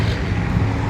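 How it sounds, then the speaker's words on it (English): Cars passing in the background on a nearby road, a steady low traffic rumble and wash, fairly loud and constant with no distinct individual pass-bys and no talking. "just in case you hear the cars in the background of the video"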